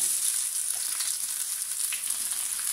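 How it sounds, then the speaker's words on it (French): Steady, close sizzling of cauliflower frying in a pan over medium heat, a continuous bright crackle with no voices. "Et je vais venir les poêler gentiment"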